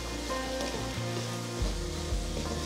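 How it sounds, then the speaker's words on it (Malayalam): Chopped onions with a pinch of salt sautéing in a pan give a steady, dense sizzle throughout, close and fairly loud, with faint stirring under it. "ഉള്ളി വേഗം വഴറ്റി കിട്ടാനായിട്ട് 1 പിഞ്ച് സോൾട്ട് ഇട്ട് കൊടുക്കാം. എന്നിട്ട് നന്നായിട്ട് മിക്സ് ചെയ്ത് കൊടുക്കുക."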